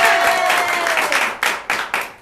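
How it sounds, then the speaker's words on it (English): An improv theatre audience breaks into applause for a performer, a dense wash of clapping that swells and then thins into a few sharp, separate claps near the end. "Everyone a round of applause for Samantha"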